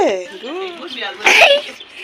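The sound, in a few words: child coughing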